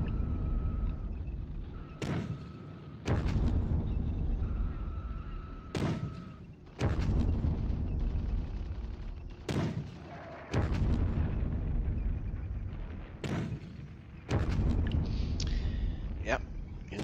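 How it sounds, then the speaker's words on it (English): Incoming Russian artillery fire in the wargame Squad Battles: heavy shell impacts land one after another, about six loud thudding blasts at irregular intervals, each followed by a rumbling decay. "There's going to be some incoming fire here with the Russians still got plenty of artillery."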